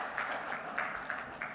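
Audience applause at a maritime industry panel session, a steady patter of clapping from a crowd, moderately distant and fairly quiet, with no talk over it.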